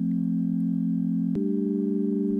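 A pure sine wave synth tone from the Serum synthesizer sustains steadily and loud, then shifts to a slightly higher pitch partway through, playing alone with no voices.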